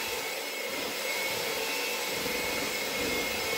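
Continuous loud whirring of a blender motor mixing cream cheese and milk, a steady dense drone running through the whole stretch without pause.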